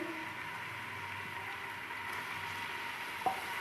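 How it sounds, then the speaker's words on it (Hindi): Two large onions frying in oil in a pot for spicy mutton biryani, giving a steady, even sizzle throughout with a brief clink near the end. "प्याज को हम फ्राई करेंगे"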